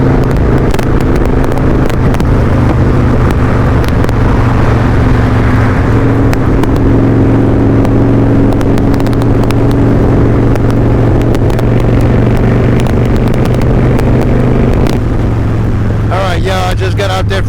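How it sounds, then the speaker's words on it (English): Motorcycle riding on a freeway against the wind, with a loud continuous engine drone heavily buffeted by roaring wind noise, steady and close throughout. "It is really hard trying to hold this bike when you're going against the wind."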